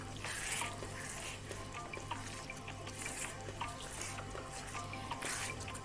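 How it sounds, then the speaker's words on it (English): Brinjals cooking for a Goan brinjal pickle, stirred in a pan over low heat, a faint, soft continuous sizzle with light scraping under a low steady hum. "Now mix this really well and cook it on low heat"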